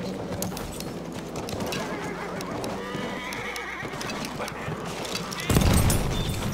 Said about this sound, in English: There's an enemy horse rider! Looks like two horse riders.